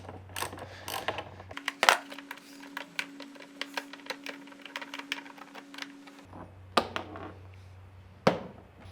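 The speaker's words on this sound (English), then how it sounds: "grab your 10mm socket and remove the bolt." A 10mm socket ratchet works loose a bolt on a motorcycle, its pawl clicking in a dense rapid series of near, crisp ticks for several seconds, with a few louder knocks of tool handling before and after.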